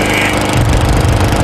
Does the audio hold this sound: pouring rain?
no